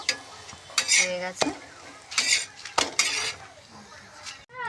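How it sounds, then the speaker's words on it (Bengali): Food frying in a pan, a steady sizzle broken by sharp metal clinks and scraping strokes from a utensil being stirred against the pan, close and fairly loud, with no talking. "সবগুলো এরমভাবে ভেজে নেব"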